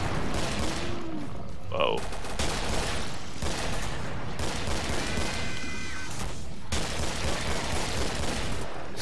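Rapid gunfire from weapons in the zombie shooter game Killing Floor, dense bursts and volleys running continuously and loud throughout, with a man's brief exclamation over the shooting.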